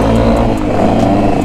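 A Yamaha XT250 off-road motorcycle engine revs hard on a trail, a loud, close, sustained mid-pitched drone with rising harmonics, no talk.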